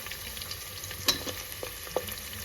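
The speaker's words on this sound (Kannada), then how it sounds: "ಈಗ ನಾನು ಸ್ವಲ್ಪ ಹಸಿಮೆಣ್ಸಿನ್ಕಾಯಿ ಹಾಕ್ಕೊತೀನಿ. ಹಸಿಮೆಣ್ಸಿನ್ಕಾಯಿ ಸ್ವಲ್ಪ ಫ್ರೈ ಆಗಿದ ತಕ್ಷಣ ಈರುಳ್ಳಿ ಹಾಕ್ಕೊತೀನಿ" Green chillies, onions and rice frying in a pan, a continuous close sizzle with a few soft stirring scrapes and one brief metallic clink.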